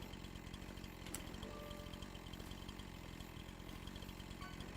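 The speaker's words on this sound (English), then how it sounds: "The definitely new sound effects on the chainsaw." A chainsaw in Farming Simulator 25 runs at a steady, buzzing drone for the whole stretch, close and fairly loud, with a brief sharper burst near the start and no talk over it.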